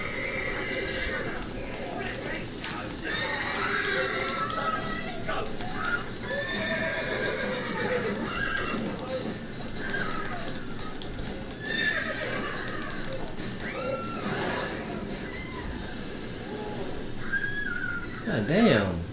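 Horses neigh and whinny repeatedly in The Witcher video game over steady clip-clopping hooves, with people talking throughout and a louder snort near the end.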